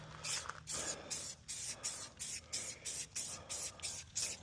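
Silicone spray hissing onto a horse trailer in quick, short pulses, roughly a dozen rapid bursts with brief gaps, close but fairly quiet.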